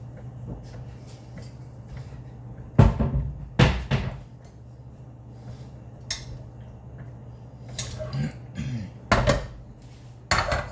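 A small saucepan handled among pots and pans in a home kitchen, with several loud metallic clanks and knocks spread apart over a low background hum.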